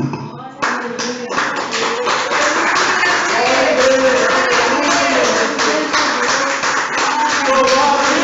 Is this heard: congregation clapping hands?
yes